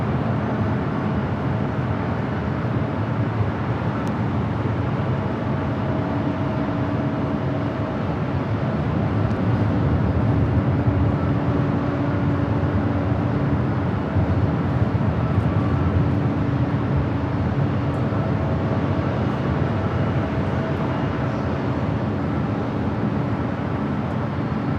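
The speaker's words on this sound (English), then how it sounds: "This is China Southern Cargo 2512 taking off to Shanghai on the 777 freighter." A China Southern Cargo Boeing 777 freighter takes off from LAX bound for Shanghai, a loud, steady jet roar that holds and swells slightly across the whole stretch, broad and rumbling with no voices over it.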